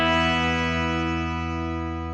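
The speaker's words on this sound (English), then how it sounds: "And then I'll go to another reverb and I'll crank up the time, crank up the mix, in hopes to kind of wash it out a little bit." A guitar tone runs through a Headrush reverb set to a long decay and a heavy mix, a sustained washed-out chord that rings evenly and fades slowly, alone with no talk.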